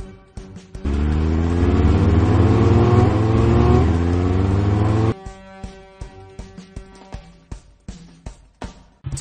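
Cartoon fire trucks in a Paw Patrol video game give a loud sustained engine rev lasting several seconds, then a run of short clicks and synthetic game effects.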